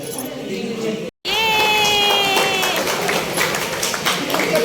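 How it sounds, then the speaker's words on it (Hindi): Applause and crowd noise fill a family wedding ceremony led by a pandit, a dense steady wash of clapping with a brief cut and a high ringing whistle-like tone sliding through the middle. "तालियां बजाओ।"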